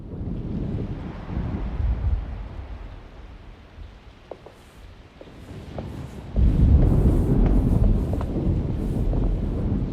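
Stormy weather in the Alone in the Dark game (2024): gusting wind roars steadily with a low rumbling swell that builds and grows louder partway through, heavy and continuous without voices.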